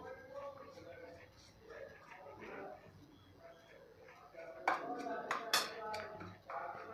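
A spoon mixes salt, ghee and chopped coriander in a bowl for a bread-potato breakfast dish. Soft scraping gives way to a quick cluster of bright clinks against the bowl, with faint talk running underneath.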